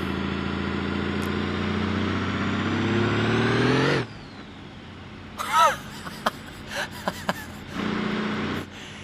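A car with no muffler in the BeamNG.drive driving game holds a loud, raw, steady engine drone that cuts off abruptly. Brief thumps and a short renewed engine burst follow near the end.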